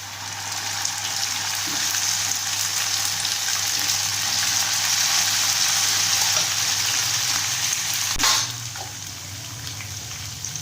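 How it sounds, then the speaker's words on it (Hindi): Mustard greens hitting a butter tempering in a hot pan, giving a steady, bright sizzle that holds throughout, with a brief clatter near the end and no talking. "अब डालते हैं साग।"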